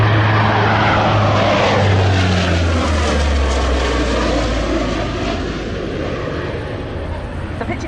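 Military aircraft flypast at the Wings over Wairarapa 2021 air show: a loud, steady propeller and engine roar that swells and shifts pitch as the plane passes close by, filling the whole stretch.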